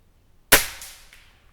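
A single sharp shot from a Gamo Swarm DX .22 air rifle fired at a target 40 yards away outdoors, a loud close crack that decays over about a second with a faint echo.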